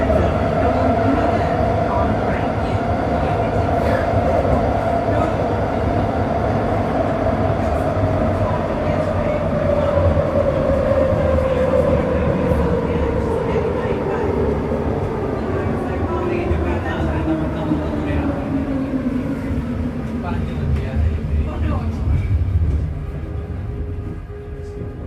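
A SkyTrain rumbles and slows with a falling pitch as it pulls into a Vancouver station on a snowy day, steady and loud throughout, with voices faintly mixed in the background.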